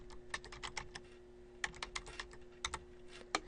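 Fingers tap a computer keyboard to enter a web address, a quiet, close series of quick keystrokes in short irregular bursts over a faint steady electrical hum.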